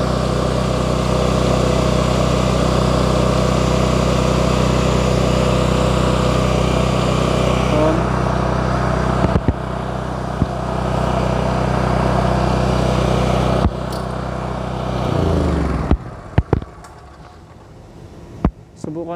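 A Blackstone BS3800D gasoline generator runs with a loud, steady engine hum close by. The hum holds constant for most of the stretch, then drops and stutters near the end among a few knocks and clicks.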